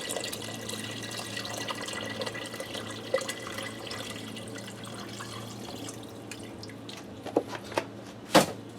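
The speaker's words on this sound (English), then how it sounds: "Now I'm going to dump in 4 cups of chicken broth." Chicken broth poured into a pressure cooker makes a soft, steady liquid gurgle at moderate distance, ending with a few brief drips and sharper splashes near the end.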